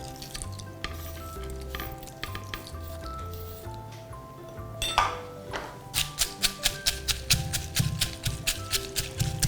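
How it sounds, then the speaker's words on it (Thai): A pestle strikes fried herbs and dried shrimp in a mortar for Thai roasted chili paste. The thuds start scattered and quiet, then turn into a loud, quick, regular pounding rhythm over a low background hum. "เราก็จะนำมาโขลกนะคะ ให้ละเอียดนะคะ ใส่ลงไปในครกได้เลย"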